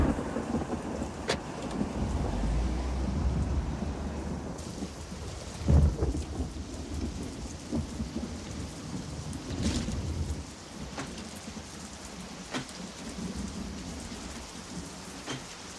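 Steady rain falls through a thunderstorm, with deep rumbles of thunder rolling in and a sharp, loud crack near the middle, then continuing rainfall and softer distant rumbles, no voices.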